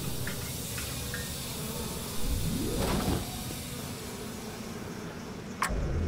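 Bees buzz in the BioShock video game, a low, steady droning hum under game ambience, with a louder sweeping swell midway and a sharp click near the end.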